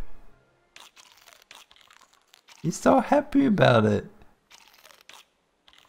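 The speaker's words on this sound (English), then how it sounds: "Commence chewing protocols." A character chews food in the game Don't Starve Together, giving short crunchy, crinkly bites mixed with quiet in-game clicks, while someone talks over part of it.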